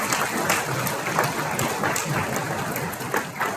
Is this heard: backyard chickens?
no